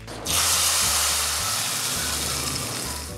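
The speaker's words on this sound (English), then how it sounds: "Now add the tadka to the dal." Hot tadka poured into dal bursts into a loud, close sizzle that starts suddenly and then hisses steadily, fading slightly over a few seconds.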